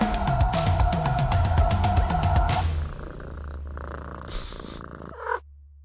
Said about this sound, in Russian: Еще раз мурчание